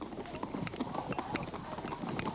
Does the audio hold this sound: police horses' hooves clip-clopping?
yes